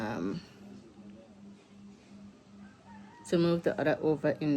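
Chickens on a homestead, soft clucking heard faintly in the background, mostly under someone talking near the start and end.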